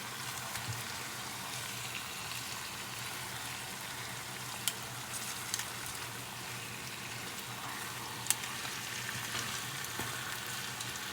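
Chicken pieces for Persian-style chicken and rice frying in a pan over moderate heat, a steady close sizzle and crackle with a couple of sharper pops, no voices.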